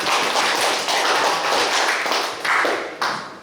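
A hall audience at a Korean youth forum concert claps steadily in dense, sustained applause that swells and gets a little uneven toward the end, with no speech over it.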